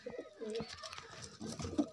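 Soft, throaty coos of nesting pigeons at a pigeon farm repeat close by, a low rolling murmur with a few bursts of rustling in between.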